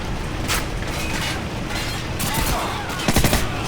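A flashbang grenade goes off in the Call of Duty 4 video game, heard as sharp, loud percussive bursts near the end of a steady background of in-game gunfire and mechanical noise.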